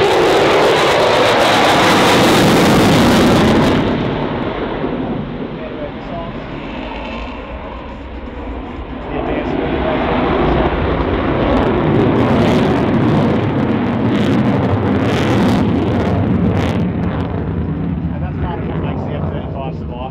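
A RAAF F-35A jet roars in a solo flying display at an airshow, loud and rushing at first, then dipping and swelling again as it moves farther off, with wind buffeting the microphone.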